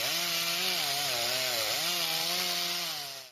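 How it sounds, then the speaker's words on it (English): Mechanical saw in a factory workshop, a loud continuous whining buzz with a wavering pitch that dips briefly midway, running steadily before fading out at the end. "Noise from mechanical saws"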